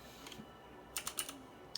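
Folding out the feet on a MOTOSPEED CK62 white mechanical keyboard with Outemu Blue switches, a quick cluster of four small sharp plastic clicks followed by one more a moment later, faint and close.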